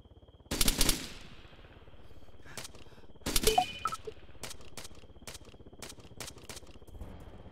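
Video game gunfire: loud bursts of automatic fire and scattered single shots over a steady background hum, with no talk.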